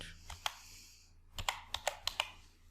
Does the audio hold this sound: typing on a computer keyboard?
yes